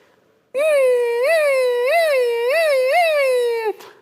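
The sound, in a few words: imitation of a puppy's separation distress cry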